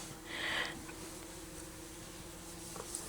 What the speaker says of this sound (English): We've got a few bees in here